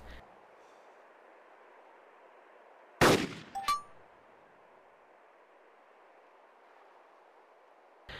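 An M14 rifle fitted with an Aimpoint red dot sight fires at a target in DayZ. A single sharp report with a short metallic ring rises out of quiet background hiss, followed a moment later by a fainter ping, with no talking.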